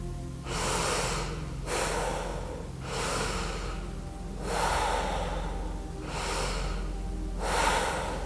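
Wim Hof method breathing round: deep, forceful breaths drawn and released in a steady rhythm, about six loud airy cycles close to the microphone with no talking.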